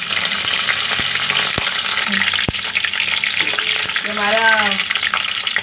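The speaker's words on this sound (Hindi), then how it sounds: "अब मैं इसमें ये ज़ीरा, राई, मेथी, सूखी मिर्च इसमें ऐड करती हूँ। ये तड़क जाएंगे" Cumin, mustard seeds, fenugreek and dried chillies crackling in hot oil, the oil previously used to fry rikwach; a steady loud sizzle with scattered pops and spits, and a brief stirring scrape near the end.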